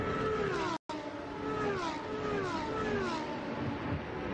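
Lamborghini Super Trofeo race cars running nose to tail at Imola, a loud, continuous engine roar with repeated rising and falling gear-change sweeps as the cars pass, steady and close throughout apart from one brief dropout.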